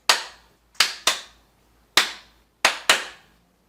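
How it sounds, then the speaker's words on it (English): Six sharp hand claps ring out in an uneven pattern, two quick pairs among single claps, crisp and close with silence between. "ask you to clap it back for them"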